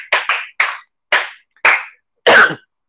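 Six sharp hand claps, spaced irregularly and fairly close, ringing out alone with silence between them.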